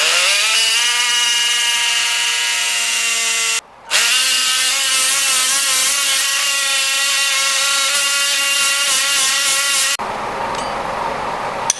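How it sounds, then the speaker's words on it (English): An oscillating surgical saw cuts a tibial bone block during a bone-patellar tendon-bone graft harvest, a steady high whine that runs almost continuously. It breaks off briefly near four seconds and shifts in tone toward the end. "Cut with the help of oscillating saw."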